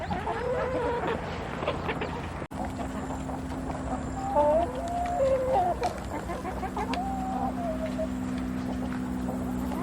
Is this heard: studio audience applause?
no